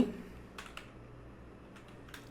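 Soft typing on a computer keyboard, a few quiet, scattered key clicks in small clusters over a low steady room hum, with no voices.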